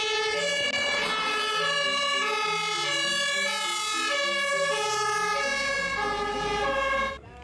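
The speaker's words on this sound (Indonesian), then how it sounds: "Wih, lihat ada mobil fire rescue." Toy fire rescue car siren wailing in a steady repeating electronic pattern, loud and close, running continuously for about seven seconds before stopping abruptly, with no talk over it.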